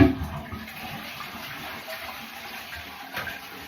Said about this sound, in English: Let me just flush the toilet.